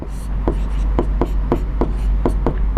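Chalk or pen strokes on a board during a Class 10 coordinate geometry maths lesson, a steady series of about nine sharp, evenly spaced taps and scratches over a low constant hum, with no talk.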